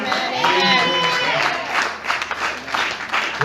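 A church congregation claps together in a burst of applause, mixed with raised voices and cheering from the crowd, with the clapping continuing in a loose wash near the end.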